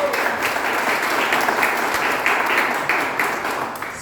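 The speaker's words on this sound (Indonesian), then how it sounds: "Beri tepuk tangan untuk Tuhan Yesus." A church congregation breaks into sustained applause in praise of Jesus during a worship service, steady clapping filling the room for several seconds with a few louder bursts near the end.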